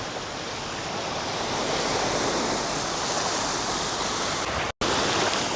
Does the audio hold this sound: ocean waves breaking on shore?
yes